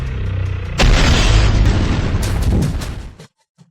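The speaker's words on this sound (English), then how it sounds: "He calls an explosion fireworks." A building blown up in a huge explosion: a sudden deep boom erupts after a low rumble, followed by a long roaring, crackling blast that tapers off into silence, with a faint pop at the end.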